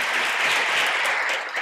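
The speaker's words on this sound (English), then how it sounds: "Give him a round of applause as he comes up." A church harvest service crowd applauds a scout walking up to read at the pulpit: dense, even clapping from many people, loud and continuous for the whole moment.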